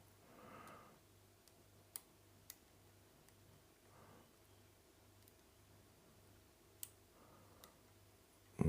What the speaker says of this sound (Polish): Mały klik jest na trójeczce.